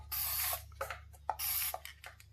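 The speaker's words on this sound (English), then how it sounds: "So I'm going to spray a little bit in" Two short bursts of hissing spray from an aerosol can onto a resin tray, close and sharp, separated by soft clicks and rattles.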